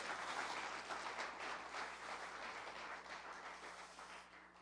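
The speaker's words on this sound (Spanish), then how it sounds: "Dale un fuerte aplauso al Señor Jesús" A church congregation claps in sustained, dense applause during a sermon, a steady wash of hand claps filling the room that slowly fades toward the end.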